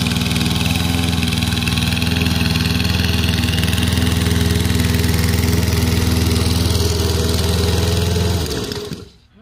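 Toro 22-inch walk-behind lawn mower with a repaired drive wheel shroud, its engine running at a steady, loud, close drone for several seconds before shutting off and winding down at the end.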